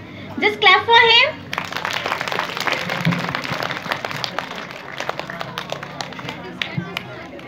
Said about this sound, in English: Just clap for him.